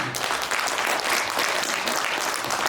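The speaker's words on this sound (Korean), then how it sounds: "큰 박수로 환영해 주시길 바라겠습니다" An indoor audience claps steadily in warm welcome for a doctor introduced as a speaker at a presentation, a dense, even wash of applause from start to finish.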